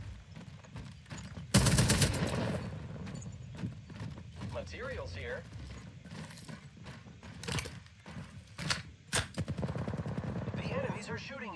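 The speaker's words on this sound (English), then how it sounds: "The enemies are shooting at me." Enemy gunfire in the Apex Legends arena mode, sharp shots and bursts scattered through the clip, some loud and close, others fainter, mixed with game effects, footstep-like clatter and a voice talking throughout.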